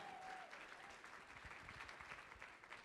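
Audience applause at a charity ball auction, a steady wash of clapping from a crowd filling the room, moderately quiet and sustained throughout with no speech over it.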